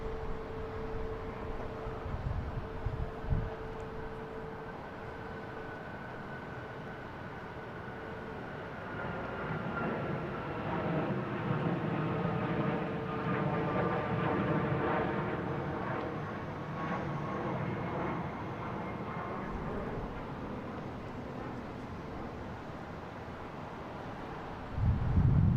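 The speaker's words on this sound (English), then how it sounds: "we have United taking off to San Francisco. 737 MAX 9, flight 440." A United Boeing 737 MAX 9 takes off at Boston Logan International Airport. Its distant jet roar swells for about ten seconds and then eases off, with wind rumbling on the microphone throughout.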